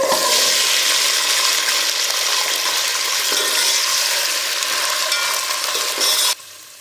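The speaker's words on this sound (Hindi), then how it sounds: "वेजिटेबल्स को डाल के हम 1 से 2 मिनट के लिए अच्छी तरह से भूनेंगे।" Peas, carrot, cauliflower and potato fry in a pan for shahi pulao, giving a loud continuous hiss and crackle with stirring scrapes, close by, until the sizzle drops away abruptly near the end.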